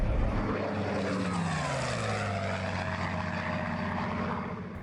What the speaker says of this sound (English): We heard away to seaward the sound of several aircraft engines